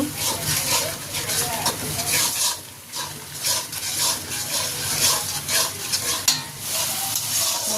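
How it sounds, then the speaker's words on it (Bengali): Turmeric, chili powder, ginger-garlic paste and salt being sautéed and stirred in a pan for a Bengali rohu fish curry with eggplant, giving a steady sizzle with scraping stirs that carries on throughout at close range. "এখন মশলাগুলোকে ভালো করে কষিয়ে নেব"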